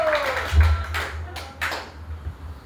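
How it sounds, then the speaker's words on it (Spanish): A church congregation claps for the Lord during a Spanish-language worship service, giving scattered, uneven bursts of applause over a steady low hum, with no clear talking. "Dale un aplauso al Señor con gozo, con alegría"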